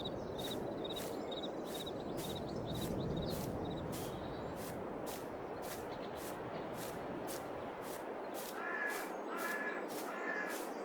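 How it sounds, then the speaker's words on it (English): Crows caw repeatedly outdoors on rural property, a steady series of harsh calls repeating every second or so over a constant background rustle and hum, moderately distant. "Let's get a gun, shoot them crows."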